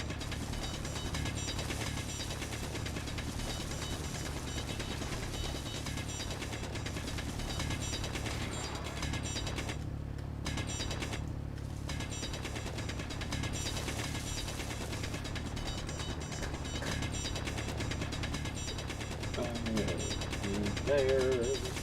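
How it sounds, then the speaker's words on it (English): Block welding in the video game Space Engineers, a steady mechanical grinding and ratcheting drone that runs on without a break, with a couple of brief dips partway through. "So that's welding up."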